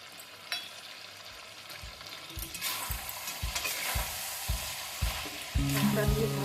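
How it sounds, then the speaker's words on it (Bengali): Garlic paste with cumin and coriander powder sizzles in a hot pan for coriander chicken curry, with a steady fry under repeated rhythmic scrapes and stirs of a spatula, close and moderately loud, no talk. "মশলা দিয়ে ভালো করে মিশিয়ে আমি কষিয়ে নেব।"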